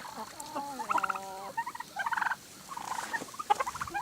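Young millefleur poultry in a messy coop give soft, high, repeated peeping and chirping calls in short irregular clusters, faint and close with quiet background.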